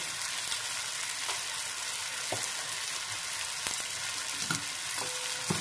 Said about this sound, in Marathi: कांदा अगदी फार शिजवायचा नाहीये, फक्त मसाले व्यवस्थित मिक्स होईपर्यंत कांदा परतून घेऊया